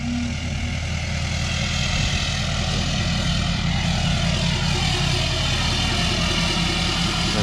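A loud, steady engine roar from a 2014 Ford F-350 diesel pickup with DPF and EGR delete and S&B intake, accelerating at full throttle, drones on without letup, thick and rumbling with a broad noisy hiss, close by and unbroken.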